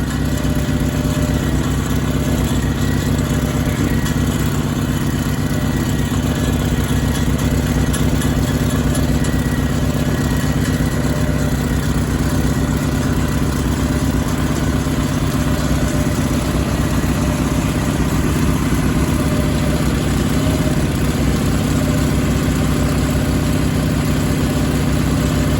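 A Sears Suburban garden tractor engine idles loudly and close, a steady unbroken mid-pitched rumble that holds unchanged throughout with no voices.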